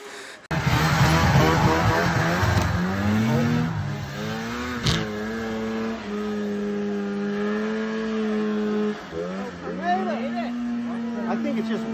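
A borrowed snowmobile sled engine revs and strains steadily while climbing a mountain, loud and close with sustained rising and falling pitch, and someone talks over it throughout.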